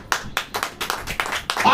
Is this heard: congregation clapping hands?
yes